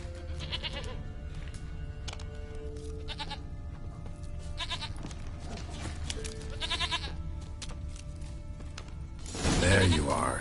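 A goat in a video game bleats several times in short, wavering cries spread across a quiet ambient game soundscape, ending in a louder burst of noise.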